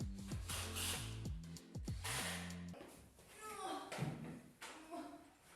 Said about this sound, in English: Once everything was lined up, it was time to screw it into place.